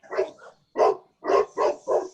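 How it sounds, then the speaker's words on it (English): A neighbor's dog barks five times outdoors, one short bark, a pause, then four evenly spaced barks, moderately loud and slightly distant, with no talking over it. "I hear a dog too."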